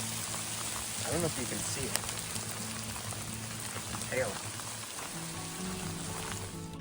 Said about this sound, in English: the hail hurts if you don't have it on